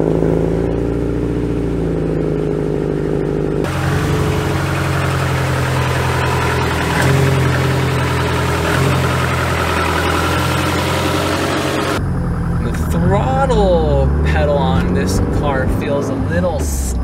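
Subaru Impreza GC8 RSTI engine running steadily at idle, a constant low rumble with cabin vibration; the tone shifts partway through as the car is readied to drive, staying loud and continuous throughout.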